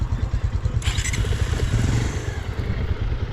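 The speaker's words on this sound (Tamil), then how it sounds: "ப்ரோ பைக்கை நிப்பாட்டு நடந்து கூட கேட்டுருவோம் ப்ரோ" A motorcycle rides through Kolli Hills with a steady, close engine rumble and pulsing exhaust, plus a brief rattling clatter partway through.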